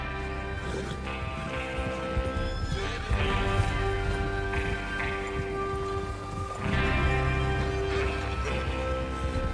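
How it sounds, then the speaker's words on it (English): Several horses of an outlaw gang in Red Dead Redemption 2 whinny and neigh while hooves clip-clop as they set off, a steady, fairly loud mix with rustling movement and swelling louder bursts near the middle and end. "Get your horses ready."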